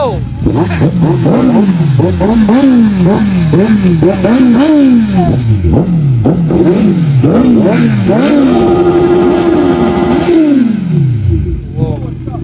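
A superbike engine revving again and again in sharp, rising and falling bursts, loud and close throughout, with people talking over it.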